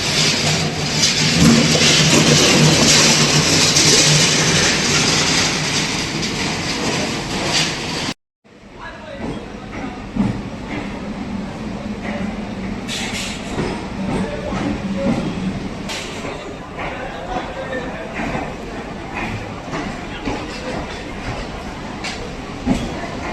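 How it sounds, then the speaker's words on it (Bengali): Sealdah–Barasat local train rolling slowly into platform 8 at Sealdah station, a loud steady rumble and rattle that cuts out briefly, then a lower continuing hum of the station with clanks over it. "ট্রেন আমাদের আস্তে আস্তে প্ল্যাটফর্মে প্রবেশ করছে।"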